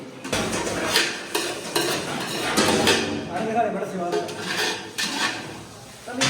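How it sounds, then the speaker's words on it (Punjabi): Dishes, pots and utensils being washed, a busy clatter of metal pans and cutlery knocking and scraping close by, irregular and continuous, with people talking over the clanging. "ਭਾਂਡੇ ਧੋਣੇ ਆਪਾਂ ਲਈ"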